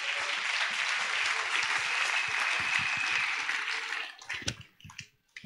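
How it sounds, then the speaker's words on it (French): A church congregation breaks into loud, sustained applause acclaiming the Lord, a dense steady clatter of many hands that thins into scattered claps and dies away near the end. "Est-ce qu'on peut acclamer le Seigneur très très fort?"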